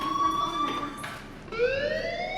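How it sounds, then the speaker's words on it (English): A school fire alarm in the Life is Strange video game rings as a steady electronic tone, joined partway through by a rising, swooping alarm wail, with game ambience underneath. "do you hear that fire alarm? That means you should be outside."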